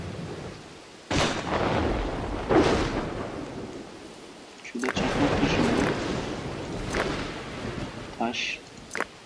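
A storm in the game Dawn of Man brings heavy rolling thunder rumbles over steady, hissing rain, while someone talks over the weather.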